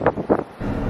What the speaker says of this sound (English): it's freaking windy out here too